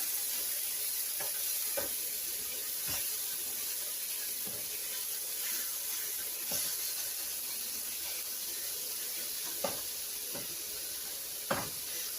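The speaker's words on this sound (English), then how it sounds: "I got my skillet heating up. And to that, I'm going to add a pound of ground beef." A pound of ground beef sizzles steadily in a hot skillet, a soft continuous frying hiss broken by occasional scrapes and stirs of a utensil.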